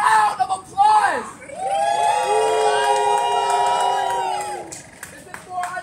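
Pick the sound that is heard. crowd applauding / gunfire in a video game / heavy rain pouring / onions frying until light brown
crowd applauding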